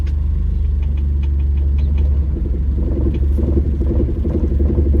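A car engine idles and revs steadily throughout a driving lesson, a loud, close, continuous low rumble with slight swells as throttle is applied.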